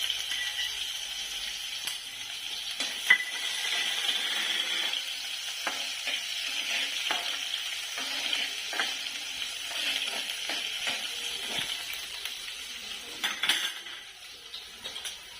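Oil sizzles and crackles steadily as mustard seeds pop and spatter with asafoetida and chopped spring onion, with a few faint clinks of a spoon against the pan.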